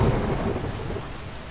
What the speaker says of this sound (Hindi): उधर पूरी रात जमकर बारिश होती